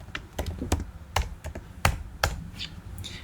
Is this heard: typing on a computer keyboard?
yes